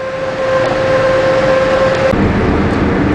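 A car fitted with an LPG injection system cruising on the Burapha Withi expressway toward Chonburi, producing a loud, steady interior drone of engine and road noise with a sustained whine that shifts partway through.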